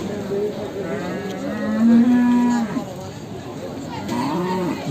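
Cattle at a livestock market let out a long, loud, low moo in the middle, with fainter lowing before and after, while people chatter in the background.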